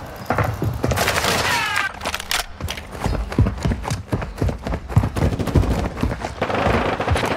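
Gunfire in Call of Duty multiplayer, rapid sharp shots in irregular bursts mixed with clattering game effects, loud and close throughout.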